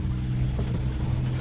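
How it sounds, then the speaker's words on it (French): Sailboat motorsailing east toward Porquerolles with its engine running alongside the sails in light wind, a steady low droning engine hum with faint wind and water noise, continuous and close. "Alors on est voilé moteur parce que"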